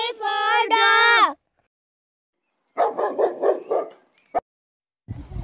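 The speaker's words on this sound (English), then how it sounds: "D for dog." A dog barks in a children's alphabet song: a quick run of about five close, moderately loud barks follows a sung line, with singing returning afterward.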